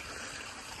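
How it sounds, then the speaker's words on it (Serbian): Water from a natural spring stream that circles a village in France flows steadily, a soft continuous trickle with no voices. "ovdje je kao prirodni izvor vode."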